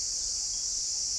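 Outdoors, a cicada sustains one continuous, shrill, high-pitched buzz at an even loudness throughout, alone and without any voices.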